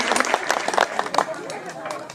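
Spectators clap for a rider at a show-jumping competition at an equestrian club, a burst of scattered handclaps mixed with voices and crowd noise, fairly loud and close, fading toward the end.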